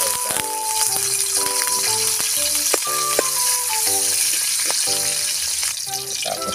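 Food sautés in annatto oil in a pan, with a steady, bright sizzle close by and occasional clinks and stirring rattles throughout.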